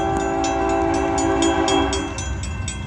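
A Santa Fe freight train rolls past close by with a sustained, loud horn chord over the rumble of the cars and rhythmic wheel clicks on the rails.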